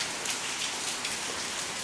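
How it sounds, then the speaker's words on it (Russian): Steady rain pours down outdoors in Spain, a dense, even hiss of drops striking surfaces with no talking. "Весь день льет дождь."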